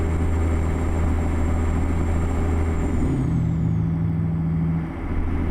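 Kenworth K100E truck in American Truck Simulator, a steady loud diesel engine drone with a gear-like pitch shift partway through and a brief dip near the end.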